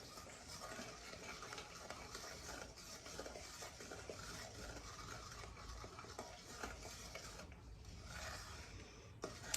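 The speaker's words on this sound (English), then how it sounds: "you take a spoon or an offset spatula and you spread the chocolate all over the crackers" A spoon spreads melted chocolate chips across a tray of crackers, giving a continuous close scraping and smearing texture with soft clinks, with no talking.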